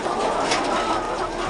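Layer hens inside a poultry house holding over 12,000 birds, a dense continuous wash of clucking and cooing from many birds at once, steady and close.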